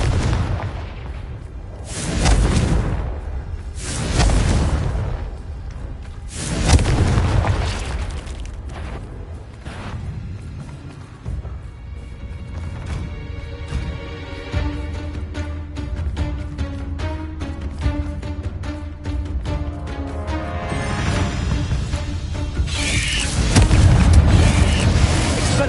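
Fiery Confringo spell blasts in Hogwarts Legacy, several loud booming bursts spaced a few seconds apart amid ongoing combat effects and a swelling blast near the end, with no talk.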